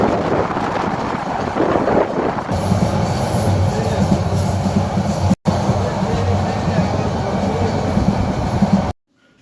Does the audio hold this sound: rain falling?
no